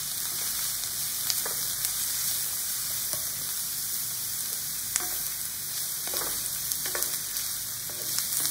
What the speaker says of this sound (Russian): И хорошенько обжарим лук.